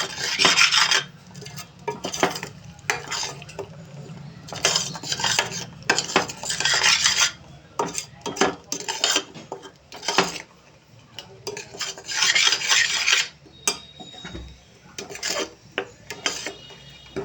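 A spoon scrapes and rasps against a metal pan in repeated bursts of stirring pea curry, close up and fairly loud, with short pauses between strokes.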